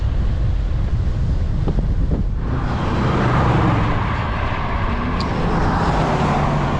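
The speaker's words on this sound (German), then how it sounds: "Ganz schöner Gegenwind!" Strong headwind buffets the microphone while a cyclist rides downhill from a mountain pass in the USA, a loud, continuous roaring rush that swells and stays heavy after the first couple of seconds.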